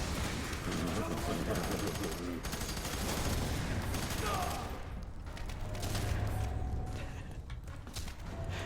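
Gunfire in the video game F.E.A.R. 3, dense bursts of rapid shots crackling loud and near in a continuous fusillade, with a voice speaking over the shooting.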